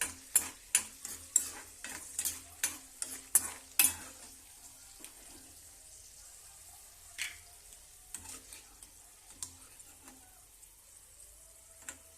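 Peanuts frying in a pan with oil, stirred in a quick run of sharp scraping strokes for the first few seconds, then only occasional stirs over a low, steady sizzle.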